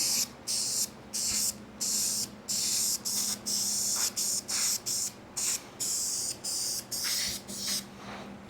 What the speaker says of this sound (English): I am trying not to make runs, but there's splatter coming out of this can